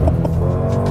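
Mercedes-AMG GLB 35 seven-seater SUV pulling away under launch control, a loud, steady engine drone heard from inside the cabin in a brief burst.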